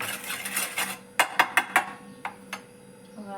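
Spoon stirring mango drink powder in a glass: a soft swirling rub followed by a quick series of four bright clinks against the glass, then two fainter taps, close up.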